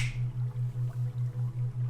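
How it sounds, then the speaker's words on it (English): A single crisp finger snap sounds close up at the very start, then a soft, steadily pulsing low drone carries on alone. "When I snap my fingers"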